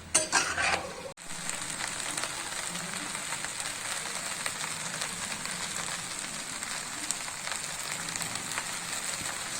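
Okra and onions fry in a pan with a steady, even sizzle that runs throughout, opening with a brief clatter of stirring before settling into continuous crackling hiss.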